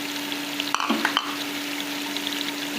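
Potatoes and cauliflower frying over medium heat in a pan give a steady close sizzle, broken by a few brief stirring clatters near the middle.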